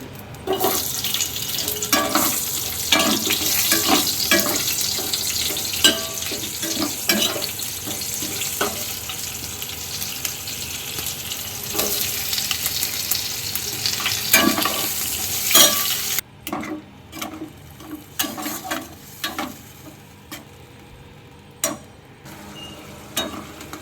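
Chicken masala with capsicum and onion fries in a pan, a continuous loud sizzle with frequent scraping stirs. The sizzle drops suddenly near the end, leaving quieter stirring and clinks.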